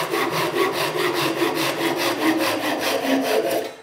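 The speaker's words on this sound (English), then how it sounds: "As you can see, it flies through the plywood." A Gyokucho Japanese pull saw slices through plywood in a steady, rapid rhythm of rasping strokes, close and loud with no pauses, a dry woody scratch repeating about every quarter second.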